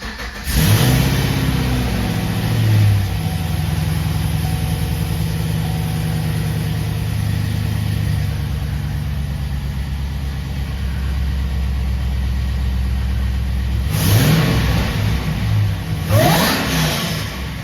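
A 2014 Chevrolet Caprice PPV police car with a supercharged LSA engine revs hard several times, its loud deep exhaust rising and falling between steady rumbling idle stretches, up close with no talk.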